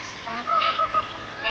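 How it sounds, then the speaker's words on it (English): Water birds honk and call on a lake at dawn, a few short nasal cries in quick succession against a quiet background hum. "the water birds down on the lake chatting away"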